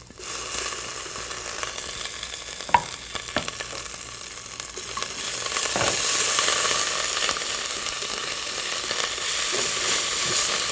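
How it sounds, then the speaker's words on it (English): Cumin seeds, fennel seeds, chili and ginger sizzle and fry in a pan, a steady close crackle with a few sharp pops, growing slightly louder partway through. "Let's toast all our spices together until the ginger goes slightly brown."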